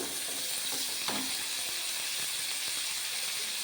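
Green chillies and tomatoes fry in hot oil for bottle gourd chutney, giving a steady, loud, close sizzle with a few faint stirring scrapes and no talking.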